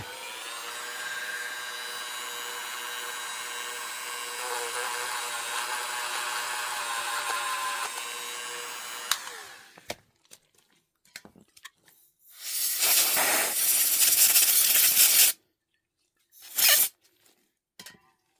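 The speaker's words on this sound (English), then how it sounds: "just want to use this to sand this one edge right here." A power tool sanding one edge of a part from a TX-22 Competition pistol gives a steady, close whine for about nine seconds, then stops; a few short, harsh bursts follow after a pause.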